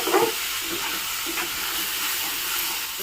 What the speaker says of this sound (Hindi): मशरूम को फ्राई करथिले से पैन रे ही हमें टिके ऑयल नेबा